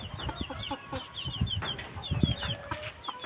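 A white chicken clucks close by in quick, repeated bursts, with a few soft background bird calls and no talking.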